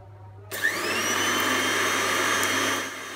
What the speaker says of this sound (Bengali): কিছু পাতা নিয়ে ঢাকনা লাগিয়ে গ্রাইন্ড করে নেব।